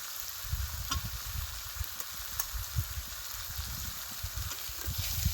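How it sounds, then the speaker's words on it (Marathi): Red chili powder and onion masala fry in oil while being stirred, a quiet sizzle with soft low thumps and scrapes from the spoon recurring irregularly, close by and without speech. "आपण दोन चमचे लाल तिखट घालू दोन चमचे कांदा मसाला घालू"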